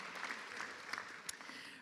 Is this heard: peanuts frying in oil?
no